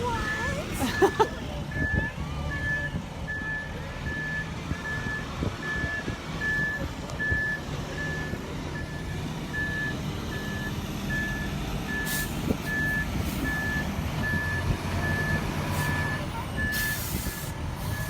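Concrete trucks reverse on a farm during a concrete pour, a regular backup beep pulsing under heavy engine rumble while people talk nearby.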